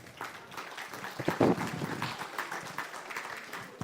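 Audience applause welcoming guests onto the stage at a cultural event, a steady wash of many hands clapping at moderate distance with one louder surge partway through.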